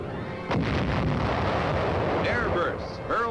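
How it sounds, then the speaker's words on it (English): White phosphorus artillery shells exploding on enemy-held wooded hill positions during the Korean War, a heavy boom followed by sustained rumbling blast noise, loud and close, with a narrator's voice running over it. "white phosphorus shells pound communist positions"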